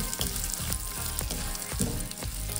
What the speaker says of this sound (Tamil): மிளகா வத்தல், இதுவும் நல்லா அப்படியே பொரிஞ்சுதுன்னா நல்லா சிவப்பாக கலராக வரும்